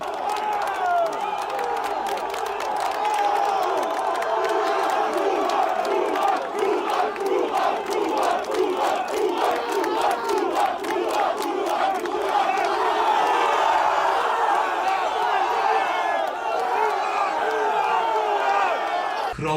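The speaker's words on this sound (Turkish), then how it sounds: "Burak diye tezahürat ediyorlar" Football fans at a training ground chant and cheer for striker Burak Yılmaz, a continuous crowd roar with rhythmic shouted chanting throughout.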